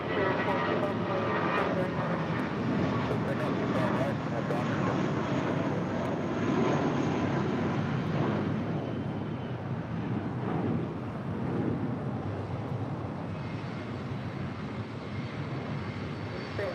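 A JetBlue airliner takes off from runway 25 right at Los Angeles International Airport, heard as a loud, broad jet engine roar with wind buffeting the microphone, easing slightly toward the end.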